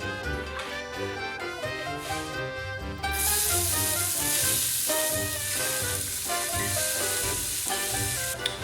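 Onions hit about four tablespoons of hot olive oil over medium-low heat, setting off a steady, close sizzle that jumps louder and brighter partway through, with music playing underneath throughout.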